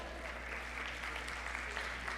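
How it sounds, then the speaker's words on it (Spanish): An audience at a Panamanian panel on child labour policy gives a round of applause during an award presentation, a steady, fairly quiet wash of clapping with no talk over it. "Un fuerte aplauso."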